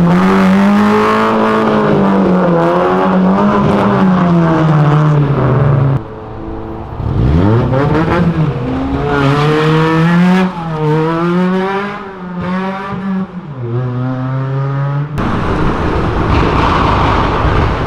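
Several cars rev hard as they pull away from a car meet, loud and close, the engine notes climbing and falling in repeated surges with brief gaps between passes.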